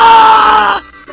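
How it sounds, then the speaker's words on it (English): Link gives a short, loud, strained scream in The Legend of Zelda: Majora's Mask, one sustained cry that cuts off abruptly after less than a second. "that's some fantastic screaming there, Link."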